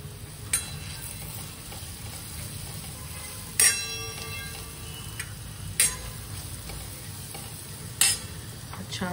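Sambar masala sautés in oil in a pan, a low steady sizzle underneath with a few sharp metallic clicks and scrapes of a spoon against the pan at intervals, close by and with no voices.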